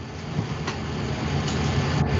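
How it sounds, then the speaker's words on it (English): A loud air conditioner runs with a steady, broad roaring drone, constant and close, filling the space without pauses or speech. "No, it's the air conditioner."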